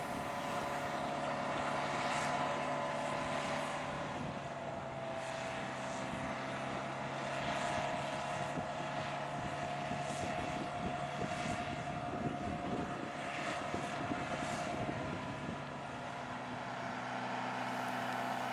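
An Austin Western Pacer 300 motor grader runs on a road in a steady, continuous engine drone with a droning tonal hum, moderately close and holding even throughout with no talk.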